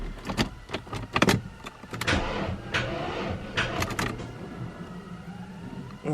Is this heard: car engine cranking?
yes